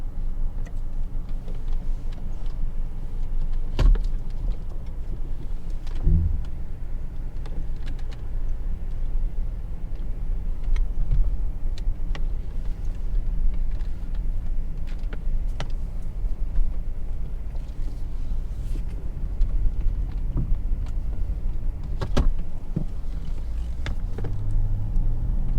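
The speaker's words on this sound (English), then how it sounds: "let's hop in the car, go for a quick drive" A Mercedes S600 with a fluid leak drives along, its low road rumble and steady cabin noise continuous throughout with a few brief knocks and clicks, no talking.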